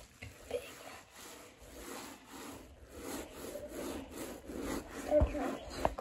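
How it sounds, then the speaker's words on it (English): Repeated scrubbing of a soapy carpet with a handheld scrub brush, a steady rasping rub that strokes back and forth and grows louder toward the end, with a couple of sharp knocks near the close. "I'll take this scrubby, start scrubbing."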